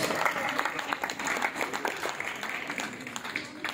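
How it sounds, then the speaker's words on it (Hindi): Audience applause at an Urdu Day awards ceremony, steady clapping from a crowd lasting a few seconds at moderate level, with no one speaking over it. "तालियों की गूंज।"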